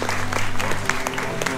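An audience claps at the opening of a political service office in Tainan: a dense, steady burst of applause with a low hum underneath, brief and fairly close.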